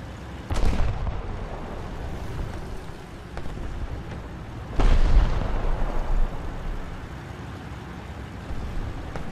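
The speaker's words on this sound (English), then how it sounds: "that we can respond to with artillery" Artillery in War Thunder fires from an SU-76D. Two heavy booms land several seconds apart, each followed by a rolling rumble, with engine and battlefield noise droning underneath.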